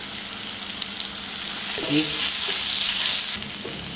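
Leftover grated coconut stir-fries in a little hot oil, a steady close sizzle that rises as it is stirred, with a brief spoken word over it.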